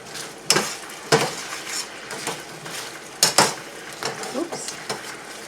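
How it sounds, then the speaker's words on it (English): A utensil stirs apples seasoned with cinnamon and nutmeg in a pan, giving several sharp scraping clinks at irregular intervals over a quiet background. "Okay, and we're going to stir that around a little bit."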